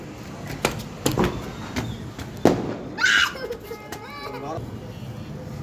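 Firecrackers pop for Diwali in several sharp, separate bangs, with children talking and playing nearby between the bursts.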